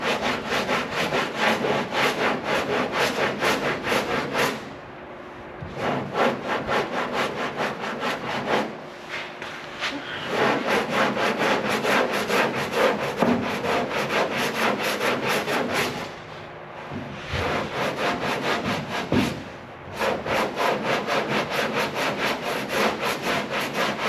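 Hand sanding of a Bondo body filler patch on car bodywork at close range, a steady rasping scrape in long continuous runs broken by three or four short pauses, with bare metal starting to show through.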